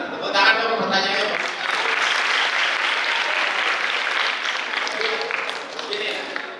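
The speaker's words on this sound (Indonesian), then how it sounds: "Tepuk tangan dulu pertanyaannya." A seminar audience claps in a steady, moderately loud round of applause lasting several seconds, with a voice briefly audible near the start.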